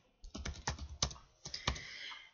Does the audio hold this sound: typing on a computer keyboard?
yes